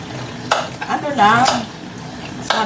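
Lugaw rice porridge with camote tops boiling in a pot, giving close, steady bubbling and hissing with a few sharper pops and clinks.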